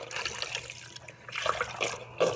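A quart of beef broth poured over a beef roast, a close, gurgling, splashing liquid pour that runs steadily for a couple of seconds with small sloshes near the end, no talking.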